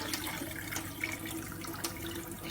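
Water runs and splashes softly as a pet Indian ringneck parrot bathes, a fairly quiet continuous trickle with faint splashes and no talking.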